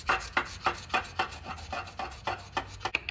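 Sharp hand scraper pulled across an aluminum part from a 2007-2011 Honda CR-V cooling system, taking crud off the surface: about ten close, rhythmic rasping strokes, each a short gritty scrape, with no talking.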